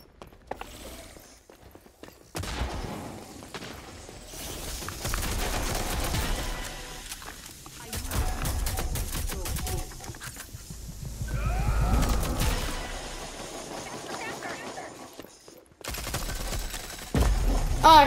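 Rapid bursts of automatic gunfire and repeated shots ring out in a free-to-play online shooter video game, dense and loud for most of the stretch with brief gaps, and no talking over it.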